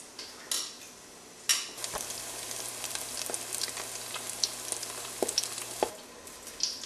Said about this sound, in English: since this is pork, you want to make sure that this is fried all the way through.